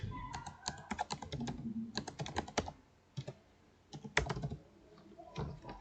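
Someone types C# code on a computer keyboard, with bursts of crisp, close key clicks and short pauses between runs and a few louder keystrokes, no talking.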